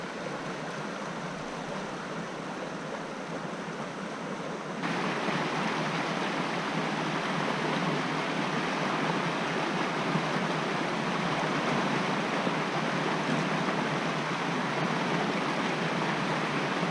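Steady broadband rush of a flowing creek in Whitehorse Wildland Provincial Park, Alberta, continuous and fairly close, swelling slightly louder partway through with no voices.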